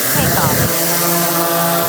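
A DJI Air 3 drone flies close by outdoors, giving off a loud, steady, high-pitched buzzing whine from its propellers that holds without a break.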